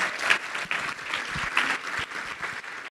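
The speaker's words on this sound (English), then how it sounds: "So I'd like a big round of applause for Chris McClung." Applause from a conference audience at an education leadership session, a moderate crowd clapping steadily with uneven bursts, fairly close, and dropping away at the very end.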